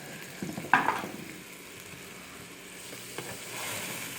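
Half a stick of butter sizzles and crackles in a hot pan, a brief sharp burst of frying near the start that settles into a soft, steady hiss.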